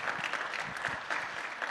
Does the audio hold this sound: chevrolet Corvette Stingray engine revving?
no